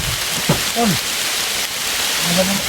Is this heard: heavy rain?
yes